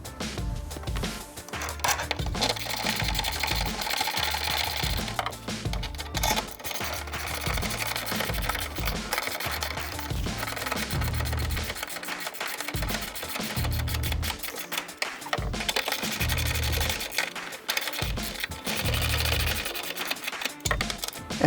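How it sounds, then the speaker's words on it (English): A power tool drives in the two lower bolts of a Skunk2 rear camber kit on a Honda Civic, a long stretch of loud rapid mechanical chattering in repeated bursts with brief pauses between them. "we'll finish up by installing the two bolts underneath"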